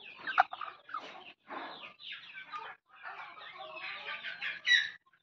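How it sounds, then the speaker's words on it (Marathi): Native village hens cluck and squawk in a coop built from cut oil tins, close by and fairly quiet, in a string of short broken calls with brief gaps between them. "याच्यामध्ये कोंबड्या बसल्या"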